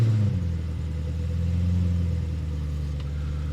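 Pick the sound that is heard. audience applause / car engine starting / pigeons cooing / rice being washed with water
car engine starting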